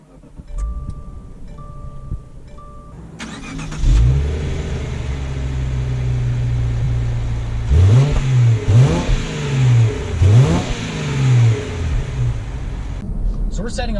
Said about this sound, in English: So we're setting off here in the 2019 Subaru Outback